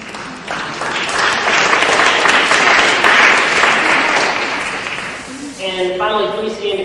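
An audience applauding standing parents at a Clinton School talk, a loud, dense wash of clapping that swells and holds for several seconds, then fades as a voice starts speaking.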